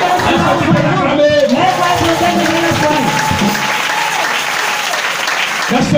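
A crowd at a French-language worship gathering applauds and cheers loudly, with sustained clapping and voices rising and falling throughout.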